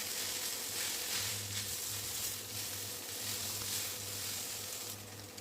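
Fried egg and fried chicken sizzle in hot oil with boiled noodles as the chicken noodles are stir-fried, a steady close crackle with faint stirring scrapes and no talking.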